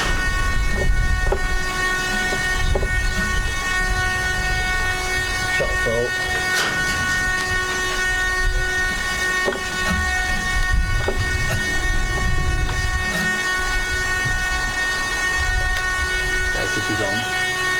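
Engine of a Krill Ultimate build running after a choked start with the throttle opened, a loud steady buzzing drone with strong even tones that holds throughout.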